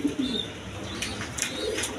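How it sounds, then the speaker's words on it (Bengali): A pair of high-flying Giribaz pigeons at a pigeon farm coo in soft low murmurs, a few short calls over steady background noise with faint higher sounds. "এখানে আরেক পেয়ার হাই ফ্লাইং গিরিবাজ কবুতর আছে"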